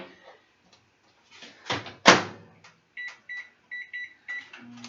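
A microwave oven in a home kitchen, heating open uncovered pasta shells, shuts with a sharp door thump, followed by a series of short electronic keypad beeps as it is set running.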